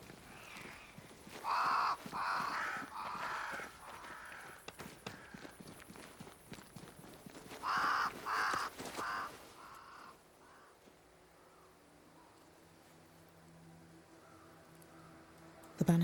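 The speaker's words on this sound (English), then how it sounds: "Crows. They flock to that great tree up there." Crows caw in the game Banishers: Ghosts of New Eden, two loud clusters of harsh calls separated by a few seconds, over soft ambient footsteps, before fading into a low quiet drone.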